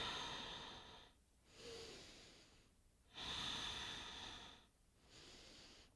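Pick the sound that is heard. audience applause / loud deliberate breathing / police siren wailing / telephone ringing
loud deliberate breathing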